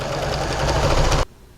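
A sewing machine stitches fleece hat panels together in a fast, loud, continuous whir lasting just over a second, then stops abruptly into quiet.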